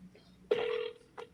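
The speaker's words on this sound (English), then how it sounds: "You guys can hear the phone ring" A single telephone ring sounds clearly for about half a second, then a faint second ring begins, heard close by with no talking.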